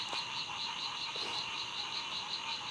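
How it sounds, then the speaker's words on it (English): Frogs croak at night at a wild solo campsite, a steady pulsing chorus of even, rhythmic calls carrying on through the whole stretch at moderate distance. "But I'll sleep pretty good with that lullaby from the frogs."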